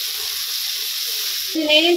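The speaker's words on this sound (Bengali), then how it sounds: "মশলাটা কষাই নিতেছি" Spice paste sizzles steadily as it is sautéed in a pan, a close, continuous hiss that swells into a louder, brighter frying burst near the end.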